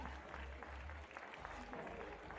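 Home crowd in Bern, Switzerland cheering and applauding a male ice climber at a European Continental Cup event, a steady faint wash of clapping heard from a distance throughout.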